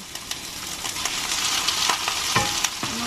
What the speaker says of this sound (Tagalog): At isusunod ko na rin itong chicken breast mince na yan.